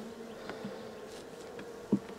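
Honeybees at a hive frame, giving a low, steady buzz with a few brief louder passes of nearby bees, faint and with no voices.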